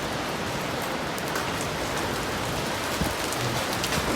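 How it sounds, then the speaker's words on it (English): Hail pounds down in a violent hailstorm in Tucson, a dense, steady roar of impacts like heavy rain on surfaces, continuous and close with no break. "Oh, this is the hail."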